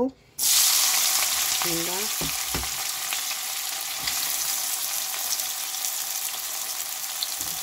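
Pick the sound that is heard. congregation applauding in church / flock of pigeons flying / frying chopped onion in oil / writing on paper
frying chopped onion in oil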